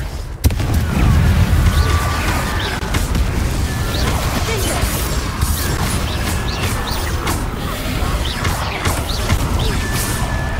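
The Confringo fire spell in the Hogwarts Legacy video game detonates with a sudden sharp blast, then a loud sustained rumble and crackling debris noises that continue for several seconds.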